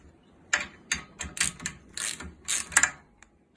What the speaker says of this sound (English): Using an 8mm socket, undo the bolts on the rocker cover.